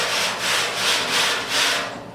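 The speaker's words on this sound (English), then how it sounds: "I can wire brush this down and prime it." Rust being wire brushed off a car part from an MGB GT parts car, a loud close scrubbing in rhythmic back-and-forth strokes, with no talk.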